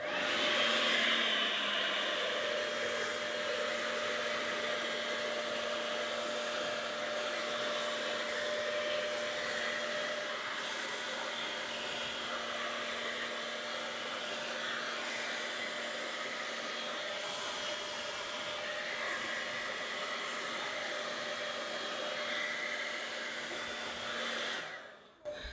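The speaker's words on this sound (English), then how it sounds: "I'm just going to use a hairdryer." A hair dryer blows steadily and loudly for the whole stretch, a continuous airy roar with a motor hum, cutting off abruptly at the end.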